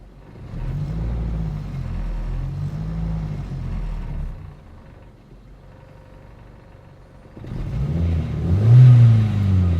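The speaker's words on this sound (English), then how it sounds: "Let's try giving it some gas again." A 1995 Geo Prizm engine revs in a few rising and falling bursts, quiets to a low idle, then climbs into a stronger, higher rev near the end, close and clear with no talking.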